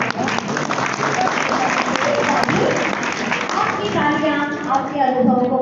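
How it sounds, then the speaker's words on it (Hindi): An audience at a Jain religious discourse by a female ascetic claps in a dense, continuous burst of applause filling the room, with a voice speaking over it near the end. "बिल्कुल सही जगह पर आपने तालियां बजाई है"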